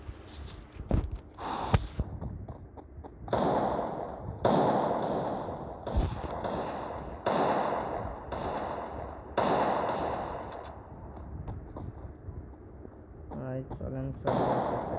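Gunfire in the video game Free Fire comes in repeated loud bursts, sharp shots and sustained rattling volleys separated by short pauses, with someone talking throughout.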